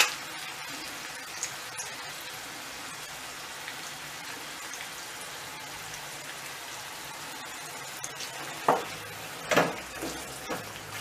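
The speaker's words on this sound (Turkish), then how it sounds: "Ve bunu bir güzel karıştırıp" Cream, a 200 ml pack, being stirred into a simmering chicken sauce in a pan: a soft, steady sizzle runs throughout, with a couple of louder spoon scrapes and clinks near the end.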